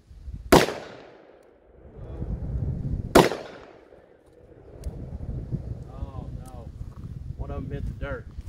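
Two loud outdoor shots from a Taurus 605 .357 Magnum revolver with a 3-inch barrel, fired at canned goods on a farm, about three seconds apart, followed by wind noise and someone talking.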